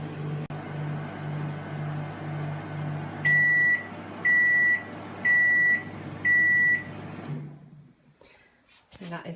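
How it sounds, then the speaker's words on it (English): Samsung ME73A microwave sounding four loud, evenly spaced electronic beeps at the end of its cycle, rising over a steady low hum before the hum cuts off. "It beeps, let you know that it's finished"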